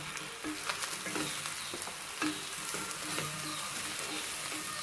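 Mushrooms added to a hot pan for a rustic mushroom curry, a steady frying sizzle with repeated soft stirring scrapes and taps.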